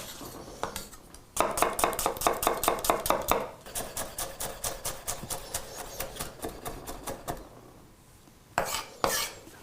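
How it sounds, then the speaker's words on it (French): A knife chops shallots on a cutting board in quick, rhythmic bursts of sharp, close taps, with a few pauses and a final short flurry. "On va donc hacher les échalotes."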